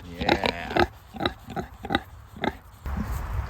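Several pigs grunting on a farm in short, irregular bursts close by, followed by a low rumble of outdoor noise at the end.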